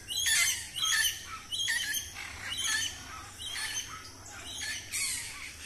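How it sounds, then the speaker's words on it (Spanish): Parakeets fly past giving loud, harsh squawks in a steady series of rough bursts about a second apart, fairly close and carrying over a low background rumble. "Al pasar los pericos, las guacamayas se fueron."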